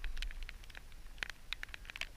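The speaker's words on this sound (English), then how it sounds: "Well, here comes the rain." Rain beginning to fall outdoors while fishing, heard as faint scattered patter of individual drops ticking irregularly, with no voices.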